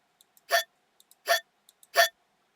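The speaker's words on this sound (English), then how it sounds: "as a cat continues to hiccup, causing little bubbles to float out of its mouth" Three evenly spaced, cartoonish hiccups from a cat in a video game, each a short loud burst, with faint little clicks and pops between them and no talking.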